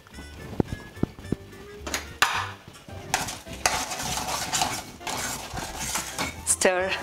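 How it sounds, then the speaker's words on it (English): A spoon stirs rava upma made with vegetables and fresh lemon juice in a pan, scraping and clinking against the metal in repeated strokes amid a faint sizzle, with no talking. "Stir to combine all the ingredients well"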